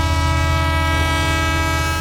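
A train rolls past a closed railway crossing gate, giving a loud, steady, continuous rumble with a sustained horn-like tonal drone throughout and no speech.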